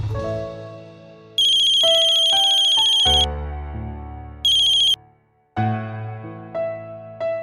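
A telephone rings with a loud electronic ringtone, bursts of bright tones alternating with a melodic chime pattern, close and clear with no talking.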